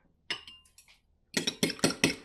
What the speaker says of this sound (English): beat the eggs without fanfare today